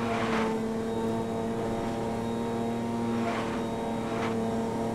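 Car engine in Need for Speed: Most Wanted droning with a strained, dying tone, a steady low hum holding through the whole stretch with faint swells, no voices.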